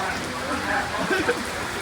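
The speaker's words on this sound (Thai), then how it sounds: "ฝนตกแล้ว" Heavy rain pours down at an outdoor event, a steady, dense hiss that fills the whole scene, with faint voices underneath.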